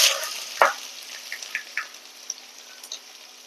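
Onions dropped into hot oil with dried red chilli and whole garam masala for chicken bhuna, a sharp hiss at the drop settling into a steady close sizzle with small pops and crackles.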